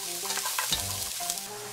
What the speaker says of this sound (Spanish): vamos a agregar el pollo o la proteína que ustedes estén usando